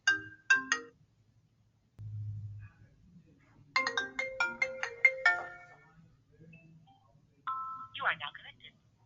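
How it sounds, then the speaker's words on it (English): A phone rings from an automated cloud call center system dialing in, with repeated electronic ringtone bursts separated by pauses, then a rising chime, moderately loud and close, between brief stretches of speech. "The system's going to call me. See, it's calling my number."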